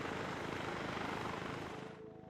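Helicopter in the video game Arma 3, decelerating in a flare: a loud, close, continuous rotor and turbine roar that holds steady, then eases and thins in the final half second.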